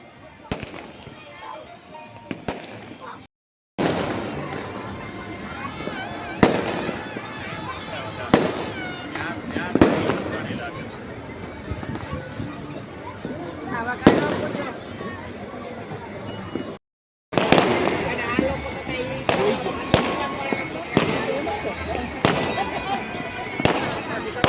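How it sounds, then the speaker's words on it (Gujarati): Rapid firecrackers bursting in dense crackling volleys at Makar Sankranti in Surat after dark, sharp loud pops scattered throughout, with people talking and crowd noise underneath and two brief silent gaps. "ફટાકડા ફટાકડા બધું ફૂટે છે"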